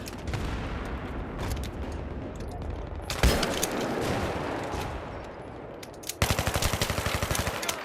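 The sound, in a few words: video game gunfire and rockets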